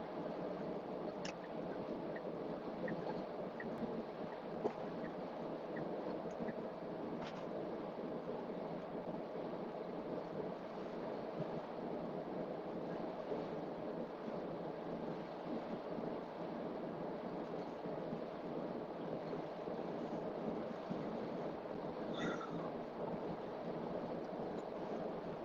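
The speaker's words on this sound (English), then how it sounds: "it definitely feels windy" Steady wind rush and low road rumble inside a Tesla Cybertruck on a road trip with cargo carried on the roof, continuous and moderately loud throughout with no talk.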